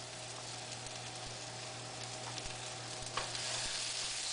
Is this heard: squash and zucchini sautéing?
yes